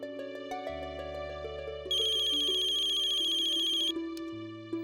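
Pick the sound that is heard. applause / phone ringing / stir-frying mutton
phone ringing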